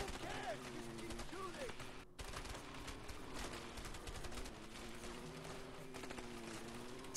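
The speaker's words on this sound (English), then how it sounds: "keep shooting" Rapid gunfire rattles through a shootout in the co-op video game A Way Out, dense and continuous under excited talk and a rumbling engine-like drone.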